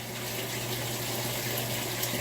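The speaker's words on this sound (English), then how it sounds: "I'm going to do 2 full cups of white distilled vinegar." White distilled vinegar pouring into a washing machine laundry load, a steady, close liquid rush over a low mechanical hum, brief and continuous.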